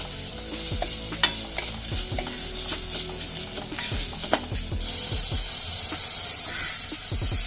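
Loud sizzling of fresh grated coconut and coriander sautéing in a pan, with repeated scraping and clinking strokes of a spatula stirring, busy and close, no talking.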